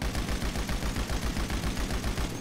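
Rapid automatic gunfire in a GTA V Online match, a steady fast rattle of shots aimed at the player, continuous and fairly close throughout with no talk.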